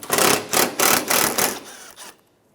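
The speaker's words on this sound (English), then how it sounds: "Remove the 2 10 millimeter screws on top of the headlight." A power tool buzzes in five rapid bursts while 10 millimeter screws are backed out of a Toyota Highlander headlight assembly, close and fairly loud, ending in silence.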